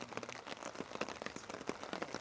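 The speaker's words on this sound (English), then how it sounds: "It's been raining for a while." Rain falling at a hammock campsite in the Juniper Prairie Wilderness, faint scattered drops tapping on surfaces in an irregular patter, soft and steady with no one talking.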